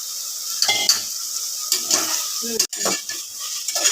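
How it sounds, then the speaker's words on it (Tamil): Chicken sautéing with onion and tomato masala in a pan gives a steady close sizzle, broken by spoon scrapes and clanks against the metal as it is stirred. "சிக்கன் போட்டு நல்லா நம்ம வதக்கணும்"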